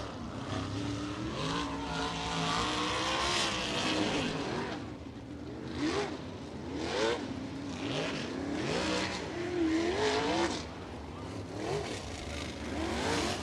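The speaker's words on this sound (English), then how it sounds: "Drivers making the way behind the Toyota Racing Development pace truck here, just about ready to set them loose here in Simpson Race Products Heat Race number 1" Sprint cars at Lincoln Park Speedway rumble in a group behind the pace truck, their engines droning steadily with repeated rising and falling revs from several cars, fairly distant and without talk.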